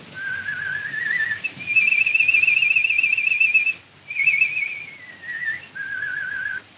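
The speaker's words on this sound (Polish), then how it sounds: "Niech pan przestanie gwizdać, bo mnie to denerwuje." A man whistles a song melody in a 1939 Polish film scene, clear sustained tuneful phrases with a couple of short pauses, close and alone without talk.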